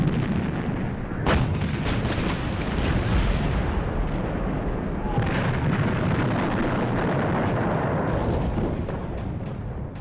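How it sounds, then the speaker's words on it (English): Massed British artillery bombardment on the Somme in 1916, a dense, continuous rumble of heavy guns with repeated sharp blasts cutting through, loud and sustained for the whole stretch with no speech. "When the British guns opened up on the Somme on the 24th of June 1916"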